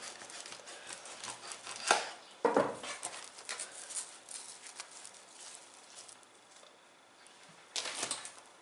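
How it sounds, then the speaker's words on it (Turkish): A knife saws through a freshly baked, still-hot sourdough pide loaf, producing faint, close crackling and scraping strokes of the crust with a few sharper crunches. "ekmeğimi şöyle bir kesiyorum."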